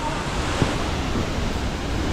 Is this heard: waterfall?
yes